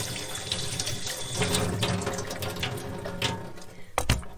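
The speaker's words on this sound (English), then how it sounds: "we'll just wash a few of the vegetables" Running tap water splashing over pre-washed vegetables and beans being rinsed in a kitchen sink, a steady close gush with clattering handling noises and a brief louder splash near the end.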